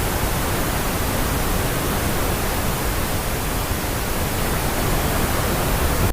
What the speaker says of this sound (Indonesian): Pink noise sudah keluar ya.